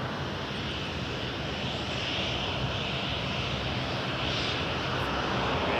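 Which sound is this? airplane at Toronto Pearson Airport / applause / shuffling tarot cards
airplane at Toronto Pearson Airport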